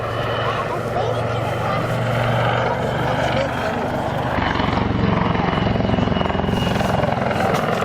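A helicopter resembling a Lynx hovers at the Southport Air Show, its steady rotor and turbine roar filling the air throughout while a commentator talks over it.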